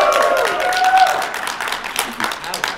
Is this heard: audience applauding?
yes